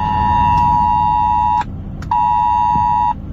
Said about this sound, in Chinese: 手机地震警报响不停。